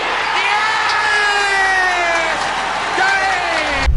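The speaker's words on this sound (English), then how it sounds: "The crowd erupted." A darts crowd erupts in loud, sustained cheering and shouting as Deller wins the world title, a dense roar of many voices that holds steady before a brief clatter at the end.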